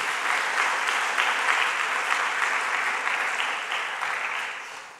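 A church congregation at a Sunday service gives a warm round of applause, many hands clapping steadily and loudly before it gradually tapers off near the end.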